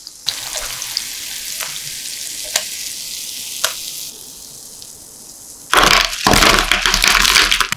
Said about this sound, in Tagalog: pirituhin natin yung kamote stick into medium heat hanggang sa mag-golden brown ito